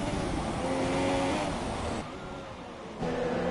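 F2 race cars in a racing video game at the Japanese Grand Prix, steady engine whine from several cars at moderate distance, shifting pitch as they run.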